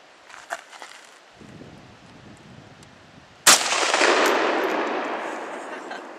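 A single sharp gunshot rings out, followed by a long noisy decay, after quieter rustling and footsteps. The shot is fired outdoors at targets such as milk jugs and panes of glass.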